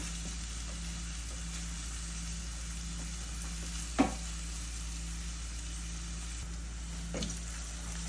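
Onions cooking in a pan until lightly browned, giving a steady, quiet sizzle with a faint hum beneath, interrupted by a couple of brief knocks or scrapes.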